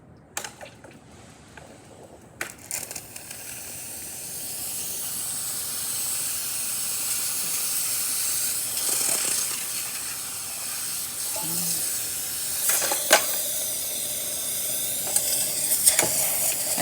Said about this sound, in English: Now we're going to be testing the steamer.